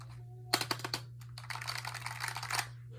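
Typing on a mechanical computer keyboard, a few distinct clicky keystrokes followed by a rapid burst of close clattering keys over a low steady hum.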